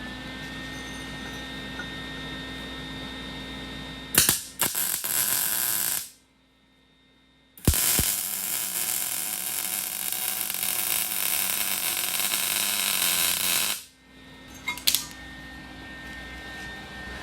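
A tube welding machine runs in two long steady bursts of loud hissing, crackling buzz, broken by a short silent gap and followed by a low background hum at the end, with no voices.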